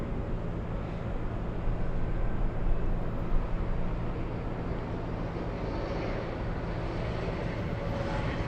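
A Southwest airliner taking off from runway 24 left at LAX, heard as a steady, heavy low-frequency engine roar with a broadband rumble, continuous and fairly loud, with a slight swell near the middle.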